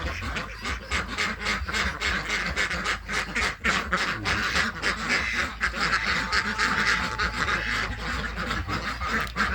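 A flock of Yi-Liang ducks quacks continuously nearby, many overlapping rapid calls forming a loud, busy chorus.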